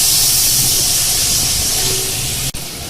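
Masala with salt and turmeric frying in a pan, a loud continuous hissing sizzle held close and steady, broken by one brief dip near the end.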